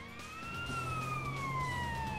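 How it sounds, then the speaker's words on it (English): Ambulance siren wailing in GTA: San Andreas, one long, smooth rising-and-falling tone over a low engine hum, loud and steady. "Just driving an ambulance."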